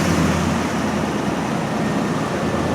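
A 2010 Infiniti QX56 SUV in excellent condition starts up and settles into a steady, continuous idle with a low engine rumble and a broad hum.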